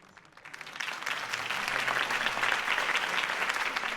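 Crowd applause after Harvey Dent's campaign speech in the Batman Telltale video game, a dense wash of clapping that swells quickly from quiet and holds steady, moderately distant.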